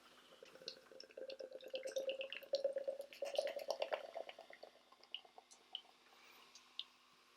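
Coffee milk stout is poured into a glass, a gurgling, bubbling stream that builds and then breaks into scattered fizzing pops and drips as the foam settles, close and fairly quiet.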